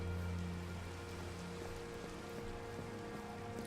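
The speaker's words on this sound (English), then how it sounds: "If it hasn't stopped raining, I'll sleep." Rain in Minecraft falls as a soft, steady patter of drops on surfaces, faint and continuous, with scattered individual drips and no voices.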